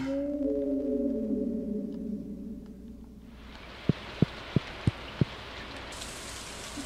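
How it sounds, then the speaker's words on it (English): Rain falling in the farming video game Stardew Valley, a steady broadband hiss of rainfall that takes over midway after a fading low tone, with a few sharp evenly spaced clicks near the end and no speech. "And there we go, it's raining."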